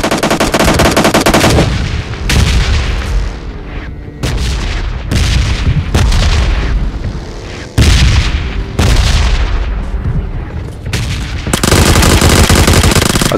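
Rapid automatic gunfire and heavy booms fill PUBG Lite gameplay, loud bursts of shots broken by short pauses, close and dense throughout.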